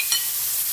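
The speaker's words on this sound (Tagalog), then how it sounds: "Pwede na natin ilagay yung ating pork, giniling." Ground pork sizzles in a frying pan and gets stirred, making a short burst of steady hiss and a quick scrape of the utensil, with no talk.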